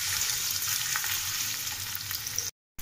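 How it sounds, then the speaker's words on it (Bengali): Chopped onions sizzle in hot mustard oil with dried chilli and panch phoron, a steady close crackling hiss that runs without pause and then cuts off abruptly near the end; no voices. "দুই মিনিট ফ্রাই করার পর কুচি করে রাখা পেঁয়াজগুলো এতে দিয়ে ফ্রাই করে নেব"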